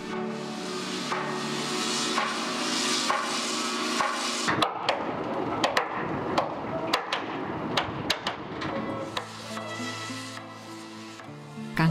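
Hammers rap against a ship's hull to knock off rust at a repair shipyard, a run of sharp metallic knocks at an irregular, quickening pace over a steady background, with music-like tones underneath.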